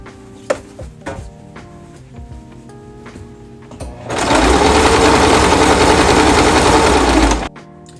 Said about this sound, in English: we did sew all the way around the beanie and the satin lining